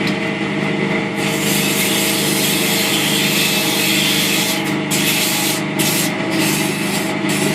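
Oak door stop spinning on a wood lathe as its radiused edges are refined, giving a steady loud scraping, rushing hiss of tool on wood with brief sharper catches near the end, no talk.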